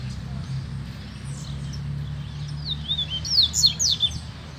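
A double-collared seedeater sings near a cage, its thin rapid chirps and whistled trills rising toward the end over a low steady hum of background noise.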